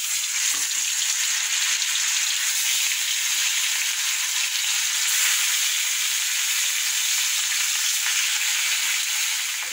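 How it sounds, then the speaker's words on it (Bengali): Cumin seeds sizzle and spit in hot oil in a home kitchen pan after fish has been fried, a steady, dense frying hiss running evenly throughout with no talking. "তেলের মধ্যে একটু জিরে ফোড়ন দিয়েছি"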